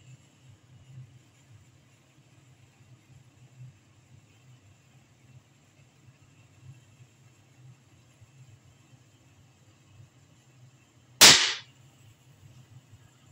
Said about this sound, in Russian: Сейчас мы будем их взрывать